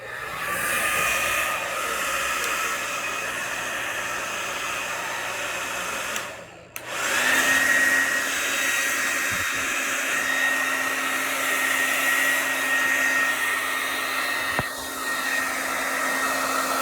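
A hair dryer blows with a steady roaring hiss, briefly cutting out midway before restarting, then running continuously up close.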